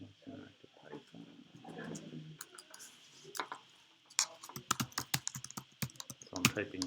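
Computer keyboard typing during a JupyterLab session, a quick run of clicky keystrokes after someone speaks, the taps growing denser and louder toward the end.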